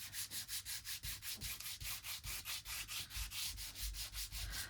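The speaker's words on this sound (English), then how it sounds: "Trusty nail file." A nail file rubs briskly over a mixed media envelope in steady, even back-and-forth strokes, about four per second, close and clear with no talking.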